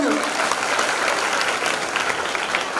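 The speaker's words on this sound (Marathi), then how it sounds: "त्यांच्यासाठी एकदा जोरदार टाळ्या वाजवा सगळेजण." Audience at a wild vegetable festival in Warud, Amravati, breaking into loud, sustained applause, a dense steady wash of clapping throughout.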